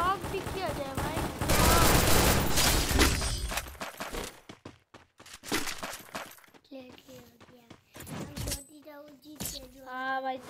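Gunfire in the Free Fire mobile game arrives as dense bursts of rapid shots and impacts, then fades into scattered single reports while someone talks excitedly over the action.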